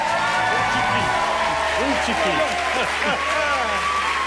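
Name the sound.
audience applause in a TV studio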